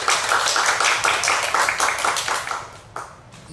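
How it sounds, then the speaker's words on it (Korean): A seated audience claps to welcome a speaker at a testimony gathering marking four years since the Sewol ferry disaster. Brisk, crisp clapping starts strong and gradually thins and fades over a few seconds. "먼저 소개해드린 치유공간 이웃의 이영하 대표님 박수로 모셔보도록 하겠습니다."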